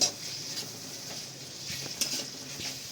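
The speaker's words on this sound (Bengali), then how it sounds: "মশলার কাঁচা গন্ধটা না যাওয়া অবধি এটাকে ভালো করে কষিয়ে নেবো" Goat meat trimmings and fat sauté with spices and ginger-garlic paste in a pan, giving a faint, low sizzle with occasional soft scrapes of stirring and no talking.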